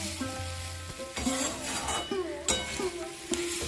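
Broccoli and prawns stir-fried dry in spices, with a loud, close sizzle and repeated scraping strokes of a spatula against the pan, and no voices.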